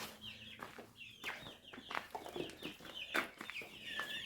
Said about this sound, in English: Any ideas on what to name our rooster?